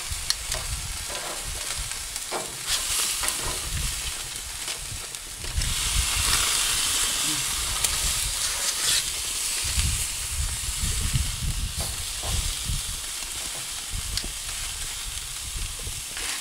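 Steaks on a barbecue grill sizzle and hiss steadily after flipping, a dense crackling frying sound close by, swelling louder partway through, with occasional scraping, no talking.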